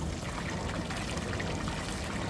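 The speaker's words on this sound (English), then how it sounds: "This button works the waterfall." A hot tub waterfall runs, pouring in a steady, dense rush of water that stays loud and even from start to finish, with no voices.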